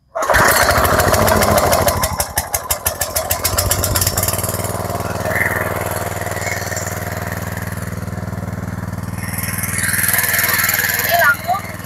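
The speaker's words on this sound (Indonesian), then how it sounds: "di sini kita juga menggunakan mesin steam ya, supaya tekanannya lebih mantap" A small motor of a high-pressure spraying machine, used for spraying durian trees, sputters to life and then runs at a loud, steady chug close by, with people talking over it.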